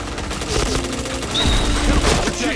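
Rapid gunfire rattles in a shooter video game, a dense, loud burst of overlapping shots and impacts that fills the whole moment.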